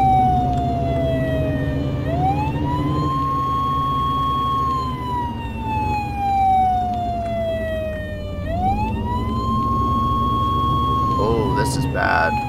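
Emergency vehicle siren in the video game Flashing Lights, a loud wailing tone that rises and falls in long sweeps over a steady engine rumble, with a few short bursts near the end.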